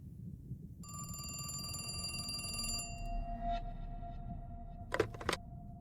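An old telephone bell rings in The Cat Lady horror adventure game, a sustained metallic trill that stops abruptly, then a couple of brief sharp clicks, over a low droning ambience.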